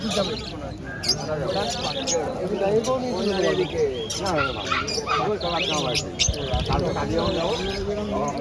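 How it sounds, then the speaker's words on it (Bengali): Lovebirds chirping at a market, with bright repeated tweets and squawks mixed among people talking nearby. "আমার এরকম জোড়া দুটো কেনার ইচ্ছা। Love bird."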